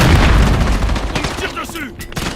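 Gunfire in the video game Call of Duty Modern Warfare 3, a loud close burst of shots and booms at the start that fades out, with game voice chatter underneath.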